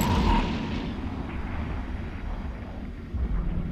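A Dominix battleship blows apart in the space game EVE Echoes: a loud, low rumbling blast that rolls on and slowly fades, with a second swell near the end.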